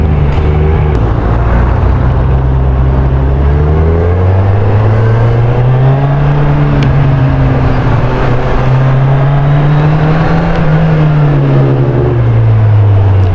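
A 2023 Kawasaki Z1000 R motorcycle with an aftermarket exhaust roars loudly and continuously up close, its engine pitch rising and falling through repeated accelerations and gear changes.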